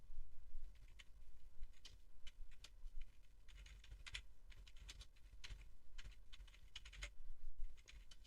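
A computer keyboard is typed on in irregular quiet bursts of key clicks, close up, with no talking.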